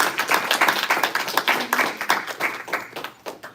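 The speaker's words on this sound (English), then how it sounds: "Let's give a big round of applause to Maya" Audience clapping for Maya at an evening Bhakti School program, a moderate group of hands with distinct, uneven claps, close and clear with no talking over it.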